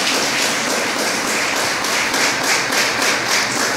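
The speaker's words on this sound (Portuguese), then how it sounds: "Aplaudem a Jesus." A church congregation applauds, and dense, sustained clapping from many hands fills the space with a steady, loud patter.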